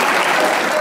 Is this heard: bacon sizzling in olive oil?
no